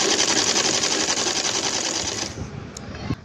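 A sewing machine runs in a fast, continuous buzzing burst while joining the legs of a salwar, then stops abruptly, leaving a couple of faint clicks.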